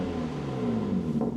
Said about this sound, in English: you'll be able to hear the sound difference between the stock exhaust and the Milltek Single Midpipe with the OPFs removed